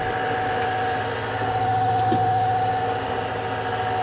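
A tractor engine runs at a steady, throbbing idle just before mowing grass for hay, a close, continuous low drone with a humming tone on top and no voices.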